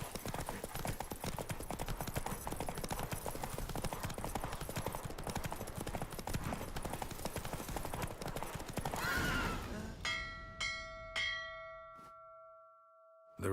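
Roach, Geralt's horse in Witcher 3, gallops in a race with fast, loud hoofbeats and a whinny over a dense game soundscape, then the run stops and a few bright chime-like bell tones ring out into near silence.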